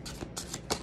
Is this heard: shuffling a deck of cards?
yes